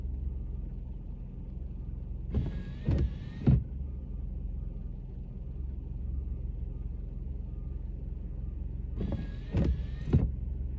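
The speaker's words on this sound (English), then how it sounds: "There's another truck coming." A snow removal truck on a Montreal street after a huge snowstorm, with a steady low engine rumble throughout and two brief clattering, whining bursts as it passes, close and loud with no talk.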